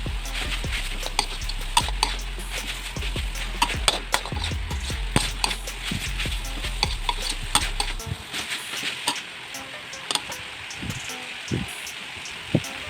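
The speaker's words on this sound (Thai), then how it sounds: "ผัดเพราะให้เข้ากันครับ" Green beans for a northern Thai bean salad being stir-fried in a pan, with close scraping and stirring under a soft sizzle. The stirring clatters unevenly, then gives way to a few sharp utensil knocks near the end.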